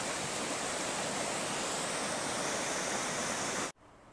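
River water flowing beside a campground, a loud, steady, broadband rush that continues unbroken for several seconds, then cuts abruptly to a much fainter hiss.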